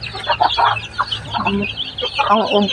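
Backyard chickens clucking close by, a quick overlapping series of short clucks and calls from several birds being fed.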